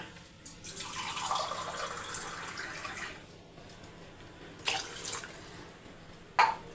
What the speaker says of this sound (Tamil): இன்னும் கூட தண்ணி ஊற்றிக்கலாம் ஒரு கிளாஸு